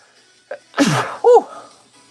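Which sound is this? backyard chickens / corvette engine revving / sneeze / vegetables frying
sneeze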